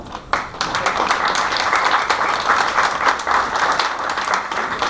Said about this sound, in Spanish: muchísimas gracias y un fuerte aplauso para él